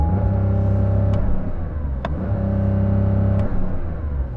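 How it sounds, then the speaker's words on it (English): A sports car engine is held at a steady high-revving drone in launch control mode, loud and close, with a deep rumble and a few brief crackles. "put it into launch control mode and then, like, sort of rev it in launch control"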